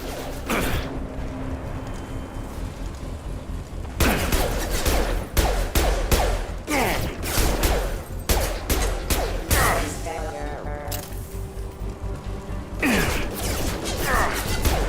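Gunfire from security mechs in the Mass Effect 2 video game, dense overlapping shots and mechanical clatter over a continuous game soundscape, loud and sustained for most of the clip.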